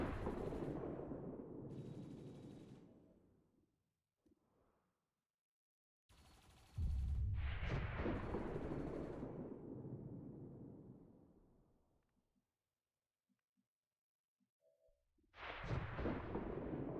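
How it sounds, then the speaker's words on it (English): Gunfire in XCOM 2 Long War of the Chosen: two heavy, rumbling bursts and a third starting at the end, each a loud blast that decays over several seconds, separated by near-silence with a few faint clicks. "Let's get some shots in on this guy."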